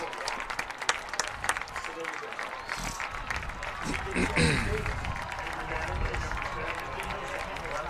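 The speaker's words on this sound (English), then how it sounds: "The crowd gives him a round of applause." A crowd at a high school football game applauds as an injured player gets back up, with scattered clapping and cheers swelling midway beneath steady commentator talk.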